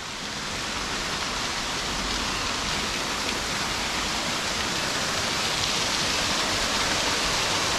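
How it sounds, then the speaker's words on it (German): A small waterfall in the Stillensteinklamm gorge gives a steady, dense rush of falling water, loud and unbroken throughout with no voices. "wir schauen jetzt zuerst zu dem kleinen Wasserfall da vorne"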